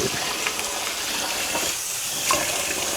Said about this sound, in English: So I rinse my spinach off.